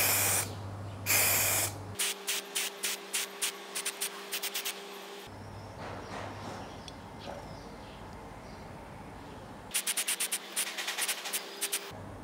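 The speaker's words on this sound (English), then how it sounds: "give them a coat of lacquer" Lacquer is sprayed onto 3D printed knobs outdoors in short, rapid hissing bursts, grouped in two clusters separated by a quieter stretch of background noise.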